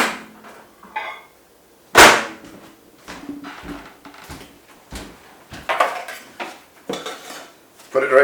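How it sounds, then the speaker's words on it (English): A Kenwood K-beater clattering against the metal mixing bowl, with one sharp loud clank followed by a string of lighter knocks and scrapes close by, and no talking. "Who recognises this thing? It's a K-beater, Kenwood bowl."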